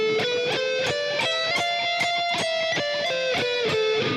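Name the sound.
guitar sweep, economy picking with doubled note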